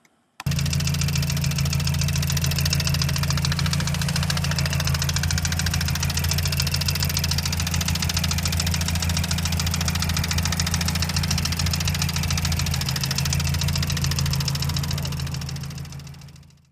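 Mazda MPS engine with a bent connecting rod, idling loudly and evenly after a brief silent start, a steady low rumble carrying a rapid knock for about sixteen seconds before fading out.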